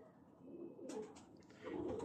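Breeder pigeons of the Teddy type kept for sale in Faisalabad coo in soft low rolling calls, with a brief burst of bird chatter and wing or cage noise joining partway through, fairly close and without speech.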